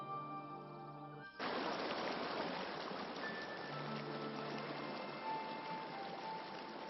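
Stream water flowing steadily with the current, a continuous broadband wash that begins abruptly after a brief quieter opening and holds at an even level with no talking.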